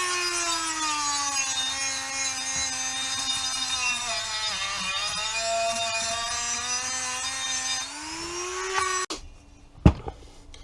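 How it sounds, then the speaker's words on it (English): A high-pitched Dremel rotary tool with a sanding bit whines steadily as it sands on a B&C 12PS57 12-inch speaker being reconed, its pitch dipping slightly under load, then cuts off, leaving brief clicks and handling noise. "Set the old Dremel tool with the sanding bit on the head"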